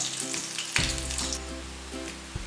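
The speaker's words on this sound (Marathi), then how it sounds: "पहिला आपण ठेचलेला लसूण घालणार आहोत लसूण थोडा गुलाबी होईपर्यंत परतून घेणार आहोत आपण" Crushed garlic sizzles steadily in hot oil in a kadhai, a continuous close frying hiss with a few brief stirring clatters and no talking.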